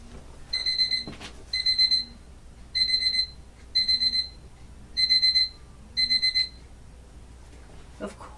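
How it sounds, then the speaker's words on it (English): A medicine timer alarm sounds indoors in six evenly spaced bursts of rapid high electronic beeping, each about half a second long, with short pauses between and a faint thump. "My timer always goes off whenever I record, doesn't it?"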